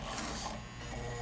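A 1960s White sewing machine running fast while stitching a wide zigzag, giving a brief dense mechanical whir with a rapid, even rattle close to the listener.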